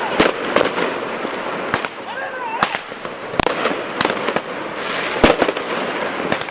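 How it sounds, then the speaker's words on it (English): Fireworks fired at police during a night riot in a city street, with sharp cracks and bangs going off irregularly over a dense crowd roar, some whistling rockets among the blasts, loud and close. "Military-aged men clad in black shot fireworks at police as trash burned in the city of lights."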